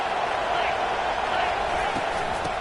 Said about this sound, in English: Fans are bringing the noise on 1st and goal.